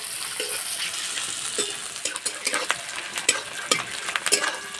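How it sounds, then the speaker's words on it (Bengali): Sliced onions with bay leaf fry in oil in a pan for a Bengali chicken curry, giving a steady close sizzle broken by repeated scraping and stirring strokes of a spatula. "পেঁয়াজটা হালকা লাল করে ভেজে নেব"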